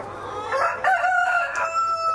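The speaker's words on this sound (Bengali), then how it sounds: "দেখেন কত বড় বড় মুরগিগুলা" Tiger breed chickens on a farm, large hens of several kilograms, clucking with a rooster crowing close by, layered calls over steady barnyard noise.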